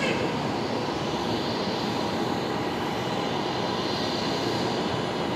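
Emirates airliner at Brisbane Airport at night, a steady, loud broadband engine roar that holds even and unbroken throughout, with no voices over it.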